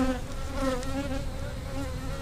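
Honeybees hum steadily at an open, older hive during a beekeeping inspection, a close, continuous drone with a sustained pitched whine that hardly varies across the whole stretch.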